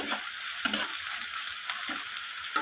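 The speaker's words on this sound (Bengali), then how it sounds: "তো পেঁয়াজটাকে আমি হালকা করে এভাবে ভেজে নেব" Chopped large onion lightly frying in a pan for a dal, a steady soft hiss and sizzle with brief stirring scrapes recurring, heard alone with no voices.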